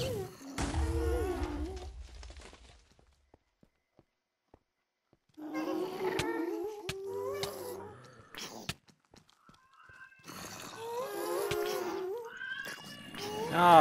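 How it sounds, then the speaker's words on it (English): Cats fighting indoors, letting out loud, drawn-out caterwauls and yowling growls in two long bursts separated by a quiet pause, with a few sharp knocks in between. "Oh, stupid cat!"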